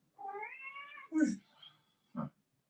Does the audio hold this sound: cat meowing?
yes